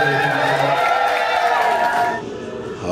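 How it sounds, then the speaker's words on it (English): A crowd aboard the Margaritaville at Sea Islander cruise ship claps and cheers after the captain's toast, a dense, steady wash of applause with scattered whoops that thins out near the end. "Give it a big round of applause."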